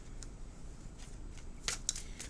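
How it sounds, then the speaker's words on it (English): Tarot cards being shuffled, soft rapid riffling and papery flicks, faint and close, ending in a couple of slightly sharper snaps. "One more shuffle."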